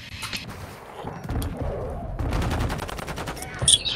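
Shotgun blasts in a video game, several sharp bursts of gunfire over a few seconds, loud and close, with a player talking around them.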